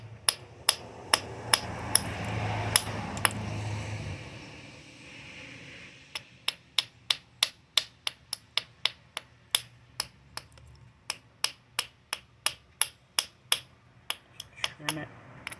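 Sharp, crisp clicks and snaps ring out as a stone arrowhead preform is pressure flaked with a copper tool, dozens of separate ticks coming in irregular bursts, close and distinct, with a low rumble early on.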